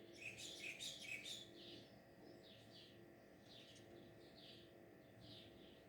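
A bird chirps just outside a window, several quick high tweets early on and then softer, spaced calls, faint and distant over a low steady background hum with no talk.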